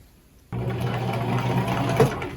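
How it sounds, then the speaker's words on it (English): A sewing machine stitches a tote bag made from a Japanese kimono obi, starting abruptly and then running as a fast, steady, close whirring buzz for about two seconds. "So I'm just gonna sew this and see what happens."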